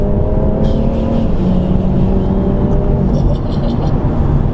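BMW M140i accelerating with early, short upshifts, a loud close engine drone rising and settling through gear changes with faint road noise and no talking.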